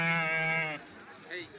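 A sheep at a sheep and goat market gives a loud, close, wavering bleat, then a fainter second call, with voices talking around it.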